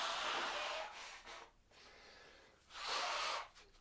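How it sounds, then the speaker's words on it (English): Nose blowing by someone with a cold, two loud close blasts of air through the nostrils separated by a quieter snuffling pause. "I gotta blow my nose a little bit."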